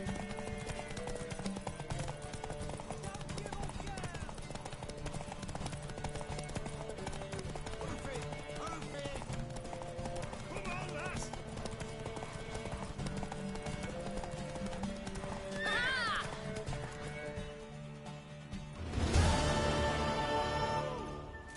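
A horse in The Witcher 3 on PS4 runs with a steady, rapid clip-clop of hooves through the whole stretch, and a neigh rises near the end. It sits under game music and voices.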